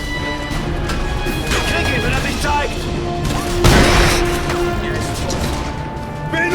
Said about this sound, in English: Shite! Gunfire!